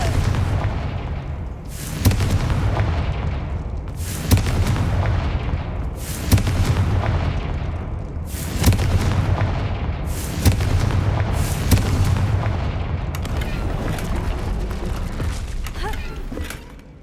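Confringo fire spells in the Hogwarts Legacy video game go off in a series of about eight loud, booming blasts spaced roughly two seconds apart, each trailing into a rumbling decay over constant background game noise.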